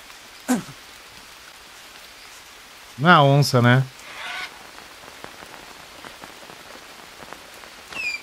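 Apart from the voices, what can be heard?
rain in the video game Green Hell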